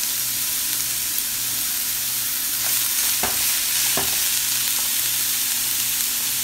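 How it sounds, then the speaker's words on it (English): Pumpkin sautéing with garlic in a pan for methi paratha, a constant close hiss of frying with a few sharp stirring clicks in the middle; no talk. "you saute. Then you add the pumpkin."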